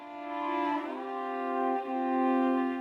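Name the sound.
Pathfinder violin plugin voices diverging in chord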